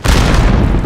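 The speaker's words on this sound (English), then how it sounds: "Enemy grenade." A loud, close grenade blast in a military shooter game, a heavy booming burst with rumbling low-end debris that fills the whole moment without any voice over it.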